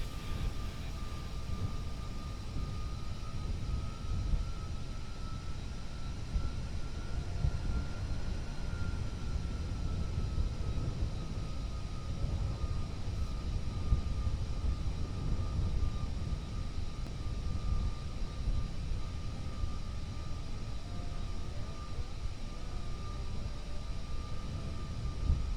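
Aircraft engine drone while taxiing in the Kerbal Space Program video game, a steady low rumble with a faint sustained tonal whine throughout, even and continuous for about half a minute.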